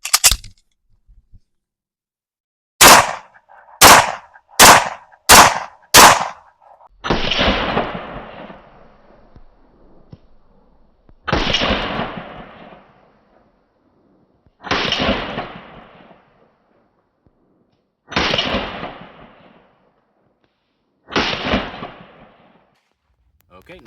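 Pistol shots firing Super Vel 115 grain ammunition outdoors: a quick string of five loud, sharp cracks, then five slower shots with longer decaying echoes, spaced a few seconds apart.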